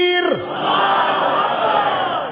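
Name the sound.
crowd shouting religious slogan in response, Allahu Akbar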